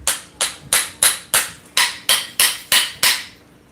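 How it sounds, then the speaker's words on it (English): A demolition screwdriver is struck on its top like a hammer, giving about ten sharp, evenly spaced metallic knocks in quick succession, close and loud with nothing else heard. "These are demolition screwdrivers, so you can hit the top like a hammer."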